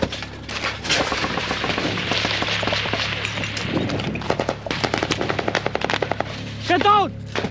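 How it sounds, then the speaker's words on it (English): Intense battlefield gunfire with sustained machine gun bursts and heavy artillery blasts, loud and close, rapid rattling volleys stacking up over several seconds before sharper separate shots near the end. "now the battle really starts, and more sporadic gunfire starts, more and more artillery, more and more drones"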